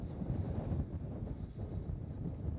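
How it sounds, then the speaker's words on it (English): Winter wind buffeting the microphone on open moorland beside a rock near a tent, a steady loud low rumble with gusty fluctuations throughout, no voices. "It's amazing how that rock is protecting us from all this wind."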